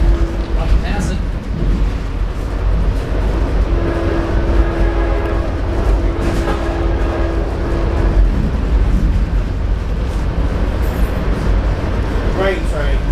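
A train rolls steadily past a rail yard in Salisbury, North Carolina, a continuous loud rumble with a sustained horn-like tone in the middle, while someone talks over it.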